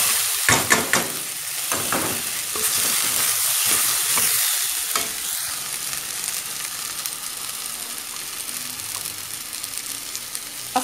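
Banana pieces hit a hot pan over a browned base for a Minas Gerais–style banana and turmeric soup, crackling in a loud steady sizzle with stirring scrapes, strongest in the first seconds and settling into a constant fry.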